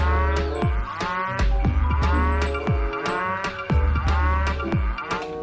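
Several cow moos from a cow in the video game Jurassic World Evolution 2 sound in quick succession, loud and close, over a repeating percussive background beat.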